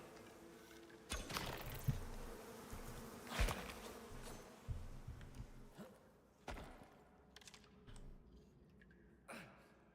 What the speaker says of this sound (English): Bees! I forgot about the bees.